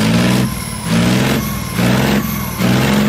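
A Leopard 2 tank's high-performance engine runs loud and close, a heavy steady rumble that surges and eases in roughly one-second cycles, with no talking.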